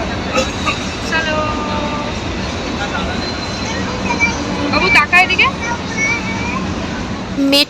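A metro train rumbles steadily along the tracks with occasional squeals and clatter, while passengers chatter in the crowded carriage at Christmas time.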